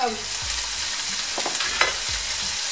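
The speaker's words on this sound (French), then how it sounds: "Je vais faire frire" Tempeh frying in a pan over medium heat, a steady close hiss of sizzling oil with a few soft stirring scrapes and clicks, no speech.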